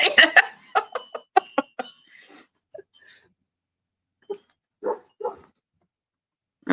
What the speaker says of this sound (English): My neighbor's dog's going to bark now.